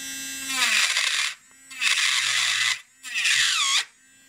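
Kredioo electric nail drill handpiece whines in three high bursts of spinning, each revving up and cutting off, with brief quiet gaps between.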